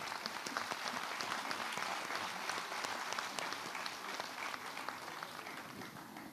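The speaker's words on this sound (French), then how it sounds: "On peut les applaudir d'ailleurs" A dense round of applause for the youngest members of a French intercommunal council at its installation meeting, steady loud clapping from a full room throughout.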